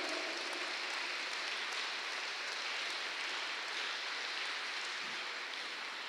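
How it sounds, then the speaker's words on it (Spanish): A church congregation applauds in one sustained, even wash of dense clapping that holds steady for several seconds with no voices over it. "Alguien dé un aplauso en esta mañana al Dios de la gloria"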